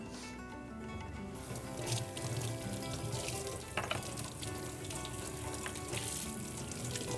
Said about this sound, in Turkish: Böyle soğanlarımız sotelenmeye başladı.